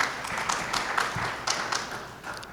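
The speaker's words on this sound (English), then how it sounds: "The applause was after they all stand up" An audience at a District 4 community meeting applauds, a soft, steady patter of many hands heard from some distance in a large room.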